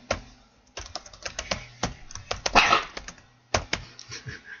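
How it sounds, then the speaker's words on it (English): A dog indoors gives a few short barks and a whimper among rapid clicking keyboard taps, the sharp sounds coming in irregular bursts with quiet gaps between them. "And as you just heard, we have a dog."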